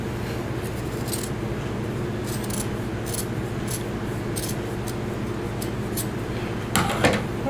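Scissors cutting through underpants fabric, a run of soft, regular snipping and rubbing strokes close by over a steady background hum, with a louder rustle near the end.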